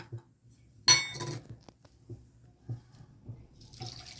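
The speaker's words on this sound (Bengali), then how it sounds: "প্রথমে আমি এই মাছটাকে একটু গরম জলে ওয়াশ করে নেব" Dried fish being washed in hot water in a home kitchen: clinks of a utensil against a bowl, splashes and trickling water in short bursts, close and fairly quiet, with no voices.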